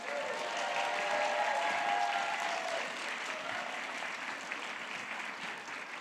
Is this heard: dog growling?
no